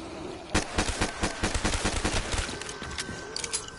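Gunfire crackles through a zombies video game in a rapid run of sharp reports, fairly close and dense, thinning out toward the end.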